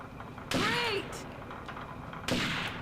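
Two sharp gunshots in the stealth game Second Sight, about two seconds apart, each with a brief ringing tail, loud against a quiet background.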